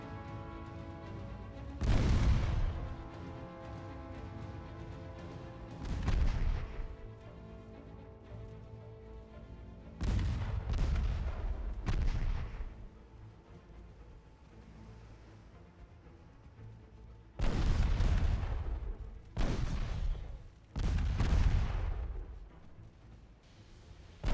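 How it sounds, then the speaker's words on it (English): Torpedo detonations in the naval game Ultimate Admiral Dreadnoughts: several heavy, booming blasts with long rumbling decays, spaced apart over steady low sea and engine noise, loud and close. "There it is, torpedo detonation."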